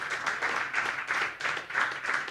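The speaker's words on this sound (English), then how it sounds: "that's a big round of applause" A round of applause at a Nixa Touchdown Club coaches' show, heard as a steady, moderately loud patter of many hands clapping in a room, continuing unbroken throughout.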